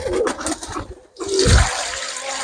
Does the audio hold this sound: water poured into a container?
yes